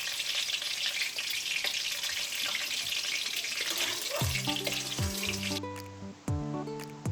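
Whole spices (dried red chillies, bay leaves, whole garam masala and cumin) hit hot oil for muri ghonto with a loud, dense crackling hiss, while tuneful music rises over the frying in the last few seconds.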